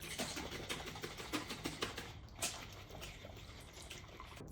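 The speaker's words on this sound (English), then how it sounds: "lid on, give this a good shake" A glass jar holding coconut oil and rye whiskey is shaken with the lid on, its liquid sloshing in quick repeated bursts across a few seconds, moderately close.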